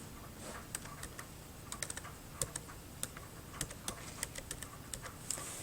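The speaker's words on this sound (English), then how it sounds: "I'm going to type in the title of the book" Keys clacking on a computer keyboard as a book title is typed at a desk, a quick irregular run of sharp, close taps with brief pauses and no talking.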